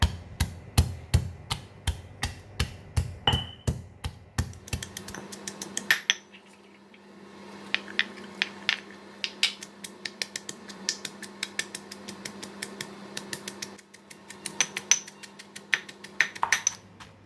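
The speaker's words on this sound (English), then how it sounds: "So pounding the garlic, right, you just need to put in a little by little." Garlic pounded little by little in a mortar and pestle, sharp rhythmic knocks that start quick and even, then come in irregular clusters of clinking taps with short pauses, close and clear.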